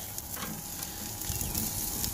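A ribeye steak sizzles steadily on a hot grill, a dense, constant crackle with no voices, slightly louder toward the end.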